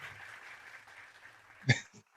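A short burst of clapping applause plays as a sound effect, rising sharply for a moment and then cutting off over a faint, steady background hum.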